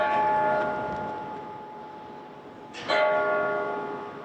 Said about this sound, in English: this bell behind me and bells all throughout the metro rang at the same time tonight